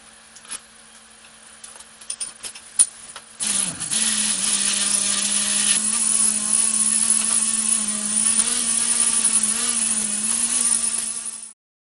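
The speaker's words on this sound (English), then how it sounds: "Hit it with a buffer and see what kind of results we get with that." A steady electric whine of an orbital buffer polishing an old metal keg runs for several seconds after a few light knocks and clicks, close and constant.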